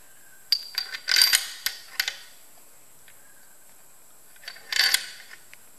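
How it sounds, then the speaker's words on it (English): Crankshaft cap bolts being tensioned down with a ratchet wrench on a Massey Ferguson MF135 tractor under restoration, rapid metallic clicking bursts close by, with pauses between and a second burst later. "We tension it down."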